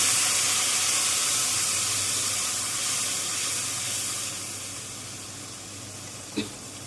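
Spice paste hisses and sizzles steadily in hot oil, a bright continuous frying crackle that slowly fades a little, with one sharp pop near the end.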